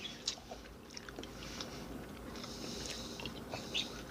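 Crunchy chewing of a Swedish pepparkakor gingerbread cookie, close and quiet, with steady biting and mastication over a few seconds and no talk.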